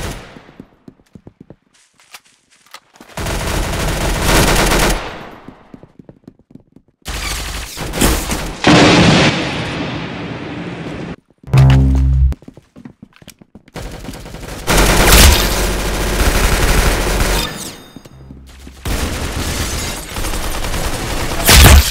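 Gunfire in the Roblox game Arsenal: loud, rapid bursts of automatic shots and single cracks, broken by short silent gaps and sudden booming hits.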